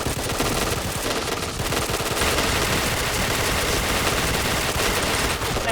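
K2C EBR rifle in the shooter game Point Blank, firing in rapid sustained automatic bursts, loud and close, a dense continuous rattle of shots running almost without pause.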